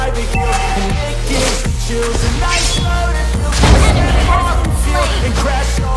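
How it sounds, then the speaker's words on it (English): In the Mobile Legends mobile game, a turret is destroyed with heavy booms and bursts, layered over busy in-game effects and background music. "Your team destroyed a turret"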